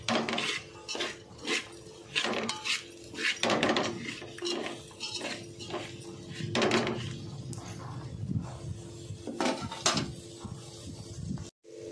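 A spoon knocking and scraping around a pan while okra curry is stirred, irregular clinks and thumps at close range, with a faint background hum and no talking.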